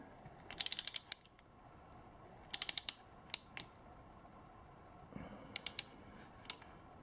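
A hand ratchet tightens a spark plug on a Kawasaki KLX140, giving quick clicking bursts in three separate groups with quiet gaps between them, close and fairly faint.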